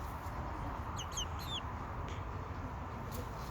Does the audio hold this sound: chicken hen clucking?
yes